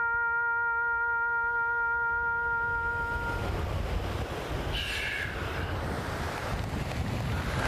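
Wind and waves on open water, a steady broadband rush with wind buffeting the microphone, entering after a few seconds of sustained musical tones and continuing loudly to the end.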